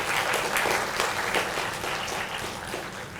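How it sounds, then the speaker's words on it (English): Audience at an academic literature conference gives a round of applause, a loud, dense burst of clapping from many hands filling the whole short stretch without any talk. "So let us give him and team members a big round of applause."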